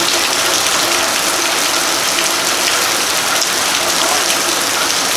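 Rain falls steadily on a small house, a dense, loud and even hiss with no breaks throughout.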